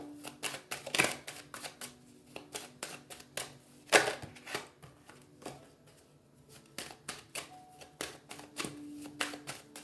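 A deck of tarot-style reading cards is cut and handled close up, giving rapid dry papery flicks and taps in irregular bursts, with a couple of sharper snaps; no voices.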